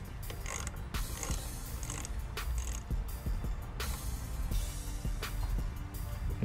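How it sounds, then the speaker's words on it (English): A 10 mm socket and ratchet loosen the negative battery terminal on a 2006-2010 Jeep Commander with the 3.7L V6, giving a steady run of mechanical clicks and creaks at close range with no talking. "just use your 10 millimeter socket and ratchet to loosen the negative side of the connector"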